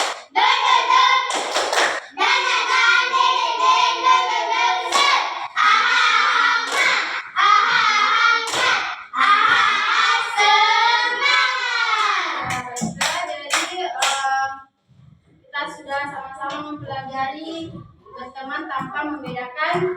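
Classroom of children clapping hands in a rhythmic chant, the claps mixed with loud sung voices through most of the stretch, with a brief pause before a few more chanted bursts.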